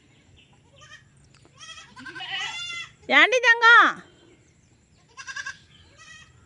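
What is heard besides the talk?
goats bleating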